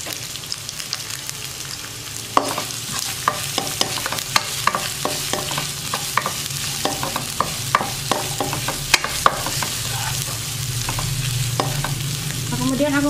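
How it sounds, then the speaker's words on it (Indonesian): Shallots and garlic sauté in a hot pan with a steady soft sizzle, with frequent scraping and tapping of a spatula stirring them, close and fairly quiet with no talk. "aku masukkan bawang merah sama bawang putihnya ya. Tumis dulu sampai harum."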